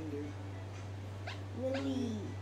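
A puppy in the game Hi! Puppies gives a few soft, high whimpers over a steady low electronic hum, brief and faint with short gaps between the cries.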